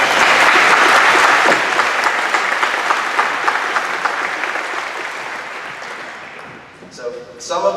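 An audience at a high school graduation ceremony gives warm, sustained applause for the helpers of the graduating class. The clapping is loud at first and slowly fades, and a voice comes in near the end.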